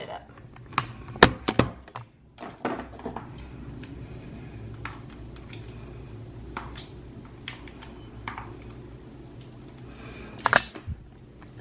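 Someone unboxes a Life of a Bombshell makeup palette, with a series of close, light clicks, taps and plastic thunks scattered unevenly over a steady room hum, no one speaking.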